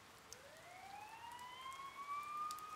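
A police siren in the Persona 4 Golden video game rises in a slow wailing sweep, faint and distant over a quiet rain-like hiss.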